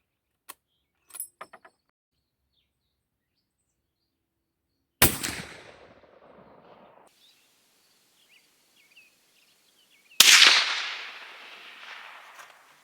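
Two loud .416 Ruger rifle shots, suppressed versus unsuppressed, ring out about five seconds apart outdoors, each a sharp crack followed by a long rumbling decay, with a few faint clicks of handling before the first.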